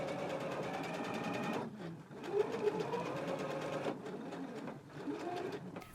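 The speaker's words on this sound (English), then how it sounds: "we can stitch along the stitching line on the outside of our shorts now" A sewing machine stitches the fly of a pair of shorts in steady rapid runs, close and continuous, with two short pauses between passes.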